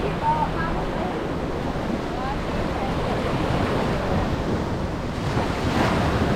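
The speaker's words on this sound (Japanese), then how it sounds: "普段はわからないんですが、このタイミングは波がすごい荒かったです。" Rough ocean surf at a Dubai beach resort near the Burj Al Arab, a constant loud roar of crashing waves with heavy wind buffeting the microphone throughout, steady and broadband with no clear breaks.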